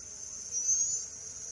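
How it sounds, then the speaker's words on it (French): In Zelda: Majora's Mask 3D, bees around a beehive give off a thin, steady high-pitched buzz that swells slightly for a moment, alone with no voices. "Voilà, là, il y a une ruche."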